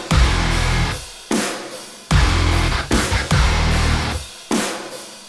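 A home-made drum recreation of a Stranger Things song, with loud punchy kick and snare hits and crashing cymbal bursts in a driving pattern, each burst decaying before the next one comes in.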